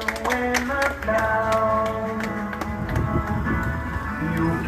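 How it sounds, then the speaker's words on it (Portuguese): Crowd clapping at a Christmas celebration for a children's shelter, sharp hand claps falling in a fairly regular beat over loud music with sustained tones, the claps and music running together throughout. "Pode bater palmas aí, pessoal."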